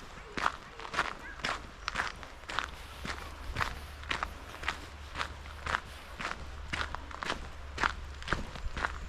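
Footsteps crunch along a wide gravel path near the River Wharfe at Bolton Abbey, a steady walking rhythm of close, crisp treads over a low constant hum.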